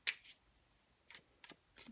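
Slippery tarot cards being shuffled in a few quick papery bursts, one sharp riffle up front and softer ones near the end, close and fairly quiet with no talking.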